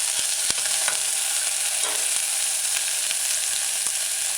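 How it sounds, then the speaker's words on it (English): Chopped scallion sautéing in a pan for a vegan red cabbage stew, a loud even sizzle with a few faint stirring ticks, no talk. "add your chopped scallion. Stir it in a few times. Allow to saute."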